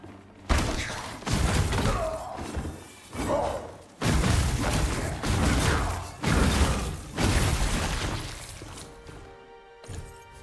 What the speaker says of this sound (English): See, that's a proper fist fight.